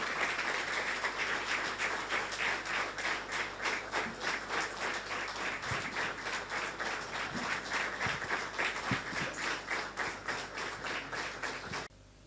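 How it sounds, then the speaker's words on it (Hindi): A church congregation claps loudly and steadily for about twelve seconds, welcoming the preacher at a praise and worship service; the dense applause stays close and even, then stops abruptly near the end. "जोरदार तालियों से हम खुदा के कलाम को और आज के खादिम को वेलकम करेंगे"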